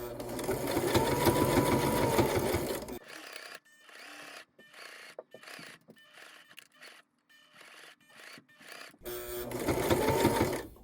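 A sewing machine stitches binding onto a Valentine patch heart: a loud steady run, then a stretch of short stop-start bursts, then another sustained run, close up.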